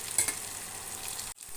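Soft sizzling of fish frying in a small wok-style pan as pieces are turned, with a couple of light scraping stirs near the start and a brief dip toward the end.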